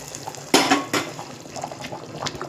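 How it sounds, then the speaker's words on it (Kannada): Hot tempering hits a pot of boiling hurali (dry field bean) sambar with a sudden loud splash and sizzle, followed by a few clinks of utensils and bubbling. "ಈಗ ಈ ಒಗ್ಗರಣೆನ ಇದಕ್ಕೆ ಹಾಕ್ಕೊಳ್ಳೋಣ."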